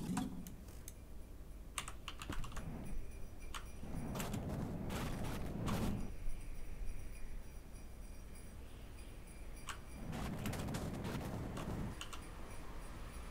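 Rattling and clattering in The Long Drive video game, a snowy-mode bus scene, with bursts of tapping, knocking noises in several clusters over a steady low background, fairly quiet and with no talk.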